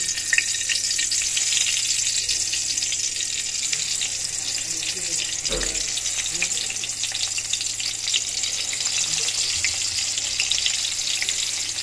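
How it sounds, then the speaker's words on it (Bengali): Eggplant slices fry in hot oil, a constant dense sizzle lasting throughout at moderate level, with a brief low thump midway and a faint voice underneath at times. "বেগুন ভাজা ভেজে নিই,"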